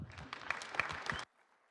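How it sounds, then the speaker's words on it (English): Brief burst of audience clapping at a morning startup pitch event, lively and close for about a second before cutting off abruptly into near silence. "So give him a big round of applause."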